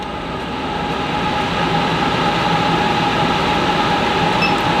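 An Airdog X5 filterless air purifier runs its fan at turbo speed, a steady, loud broadband whoosh with a faint tonal hum that holds constant throughout, alone with no voices.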